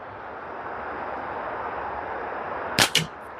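A slingshot shot striking a target outdoors, heard as two sharp, loud cracks close together near the end, rising out of a steady wind-like background hiss with no talking.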